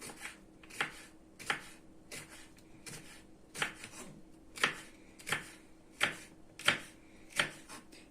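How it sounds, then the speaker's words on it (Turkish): A knife chops peppers on a cutting board in steady, evenly spaced strokes, about a dozen crisp cuts with short pauses between. "Şöyle bir kısmını da bu şekilde yemeklik doğrayalım."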